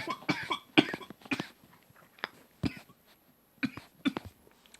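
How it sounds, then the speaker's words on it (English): A man coughs in a quiet room: a short cluster of coughs, a pause, then a few more spaced bursts, close and fairly loud with no talking. "I had to cough a bit there"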